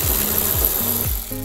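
A power tool loosening rear strut nuts on a Honda CR-V RD1 gives three short close whirring bursts, each with a falling pitch, separated by brief pauses.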